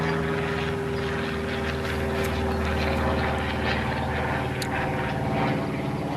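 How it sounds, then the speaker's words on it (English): A steady, droning propeller airplane engine passing overhead, loud and continuous with a low hum throughout. "hopefully this plane stops flying over the top of my head"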